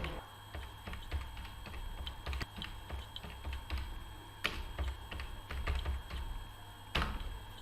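Rapid keystrokes on a computer keyboard while entering ledger details in Tally Prime accounting software, an uneven run of sharp clicks with occasional louder key presses, close and alone over a low steady hum.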